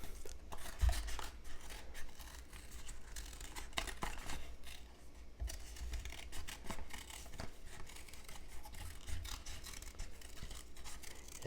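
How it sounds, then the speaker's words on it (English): Scissors cut out a paper shadow-puppet piece, making close, soft snipping and rustling with scattered clicks over a steady low background hum, with no talk. "So let me cut that out."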